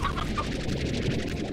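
Hens in the Slime Rancher video game cluck in a busy, continuous layer, several soft calls overlapping near the listener with ambient game sound beneath.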